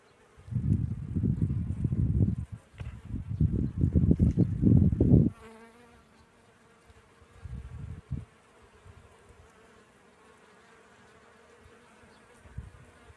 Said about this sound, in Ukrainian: Ця квітка ще й приваблює їх цих комок. Який звук, як у вулику.